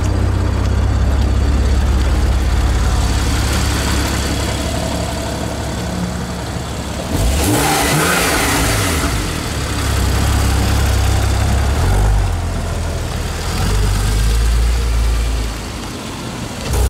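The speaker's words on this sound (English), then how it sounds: "So now I'm moving the car to go to the new car park" A supercar engine idles and then pulls away, a loud, close low rumble with a brief rise in revs midway before it settles back into a steady drone as the car moves across a car park, with no speech.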